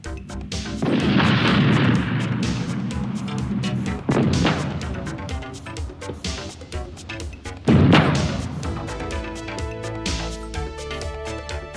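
A main battle tank gun fires in loud, heavy booms, two big blasts several seconds apart, each rolling out into a long rumbling decay with a steady mechanical hum between them.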